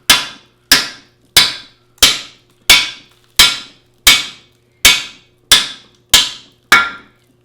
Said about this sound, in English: just with the face of the hammer,